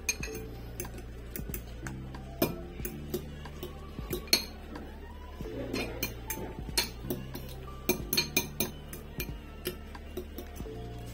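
A utensil whisks chopped onions into beaten eggs in a bowl. It makes close, irregular clinks and ticks against the bowl in quick bursts throughout, with no talking.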